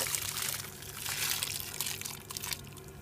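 Water pours steadily into a saucepan in a kitchen for cooking frozen corn, peas and peppers, a continuous close splashing trickle with no talk.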